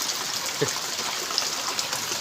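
Hard rain falls outdoors in a steady rushing wash, with water gushing nearby and a few brief splashy spikes standing out from the constant patter.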